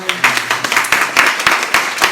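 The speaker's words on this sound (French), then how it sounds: "On peut les applaudir là, ceux qui nous regardent." A church congregation claps for about two seconds during a Sunday service, with sharp irregular hand claps rising above a steady murmur of voices and chatter in the room.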